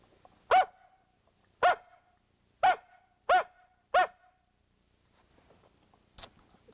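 Five loud, coarse coyote-style barks from a reed call amplified through a megaphone, evenly spaced, followed by a faint trailing yelp.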